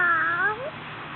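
A young child imitates a cat with one short, high, drawn-out meow that bends and fades over about a second.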